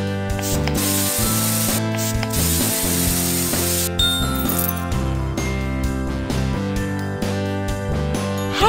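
A hair spray hiss in a kids' makeover hair salon video game, a loud airy spray burst lasting a few seconds over bright, busy game music with clicky mechanical sound effects.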